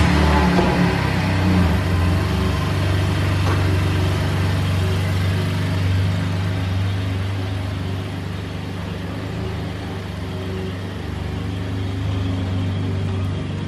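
A car idles with a steady low engine rumble while being moved back a short way during a DIY vinyl stripe job, the engine drone continuous and fairly close with no talk.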